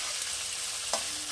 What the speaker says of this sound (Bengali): আমি সবজিটা ভেজে তুলে রাখছি আপনাদের কাছে